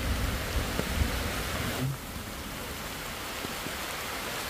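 Steady, dense hiss of rain falling outdoors, fairly loud and continuous, easing slightly partway through with a few faint low thumps; no talking.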